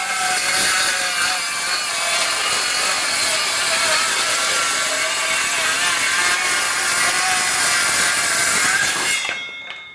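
A DeWalt XTREME 12V DCS512B cordless circular saw makes a bevel cut through 3/4 inch plywood, giving a loud, close, continuous high-pitched cutting whine that lasts about nine seconds and then stops sharply.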